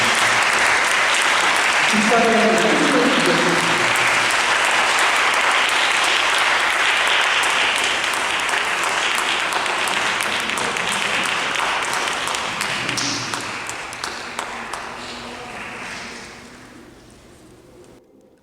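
Sustained congregation applause during a Sunday service at Pasadena Presbyterian Church, loud and full at first with a few voices mixed in, then gradually thinning and fading out toward the end.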